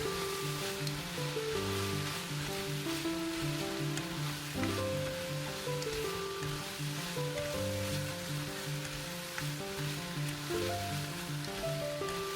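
Pork curry ingredients sizzle and get stirred in a pan, a continuous close frying hiss with occasional scraping, heard beneath steady background music and no talk.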